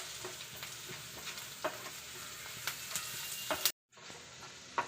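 Curry leaves drop into a frying chickpea masala, giving a steady close sizzle with scraping stir strokes and a brief dropout near the end before the frying resumes.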